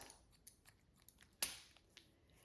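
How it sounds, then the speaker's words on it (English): Quiet, crisp snips of salon scissors point cutting the top of short, thick, textured hair, several light clicks spaced irregularly with one sharper cut in the middle. "In here, we're just gonna point cut into that."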